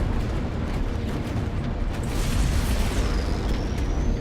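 Continuous rumbling torpedo explosions from a space combat game, Strike Suit Zero, dense booming blasts layered into a steady roar without pauses, no voices.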